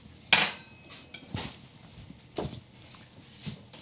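A spoon scrapes and clinks against a skillet while serving a gluten-free pasta bake, several distinct metallic knocks spaced about a second apart, close and fairly quiet.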